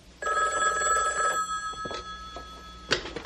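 A telephone bell rings once in a loud, close trill, followed by a short pause, then the start of a second ring.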